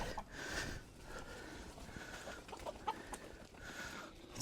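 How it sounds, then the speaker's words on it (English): Rooster or chicken on a farm making clucking and crowing calls, a few medium-loud bursts at a middle distance amid outdoor background noise, with no one speaking. "What's that rooster doing? A chicken?"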